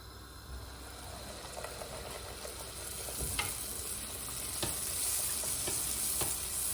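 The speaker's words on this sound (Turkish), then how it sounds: "Bir yandan elimle açıp bir yandan da kızartıyorum." Steady sizzling of pişi dough frying in hot oil, with scattered sharp crackles and pops over a continuous hiss.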